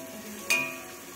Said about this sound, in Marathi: कांदा, टोमॅटो वगैरे, कढीपत्ता वगैरे टाकून थोडीशी फोडणी दिली आहे